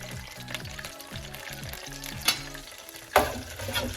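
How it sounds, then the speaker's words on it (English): Moroccan dried black olives bubble and crackle in hot oil in a pan, a continuous sizzle broken by two sharper clinks or stirs near the end. "just give them a little simmer first. You get all that nice flavoring from the olive into the oil"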